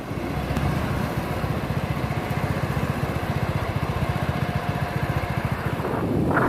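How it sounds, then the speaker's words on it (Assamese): A motorcycle engine idles close by on a foggy morning road, its steady, even thumping exhaust pulses holding a constant rhythm throughout with no voices. "তো ষ্টাৰ্ট দিওঁ বাইক আৰু লগ পাম আৰু তেতিলীয়া বজাৰত"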